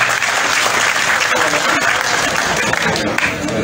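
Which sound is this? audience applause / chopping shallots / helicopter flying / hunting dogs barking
audience applause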